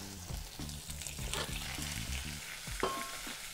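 Sliced mushrooms fry with garlic and olive oil in a pan, a steady crackling sizzle under a humming, tonal background, with occasional close stirring scrapes.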